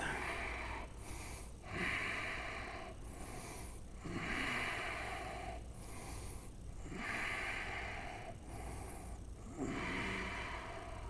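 Slow, deep breaths during a strong yoga flow, each inhale and exhale audible as airy rushes roughly every two seconds, repeating evenly against a soft background hum.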